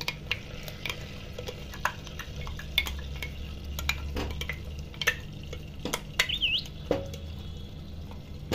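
Onion and green chili paste in ghee, with a low steady sizzle under scattered clicks and scrapes of a spoon against the pan, close and fairly quiet.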